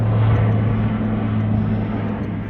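A propeller airplane drones overhead near an airport, a loud steady low engine hum with a strong tonal throb, gradually fading slightly as it passes.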